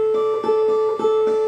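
Guitar plays the opening of a song, a steady pattern of picked notes repeating in a regular pulse, close and clear with a sustained high note ringing throughout, no voices.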